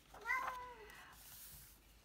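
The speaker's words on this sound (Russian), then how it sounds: "О, кот проснулся." A cat gives a single short, rising-then-falling meow, faint and somewhat distant in a quiet room, followed by soft background hiss.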